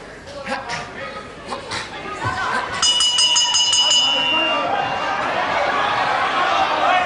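A wrestling round bell rings out in quick metallic strikes over a noisy arena crowd, while a commentator talks over the match and the cheering swells after the bell.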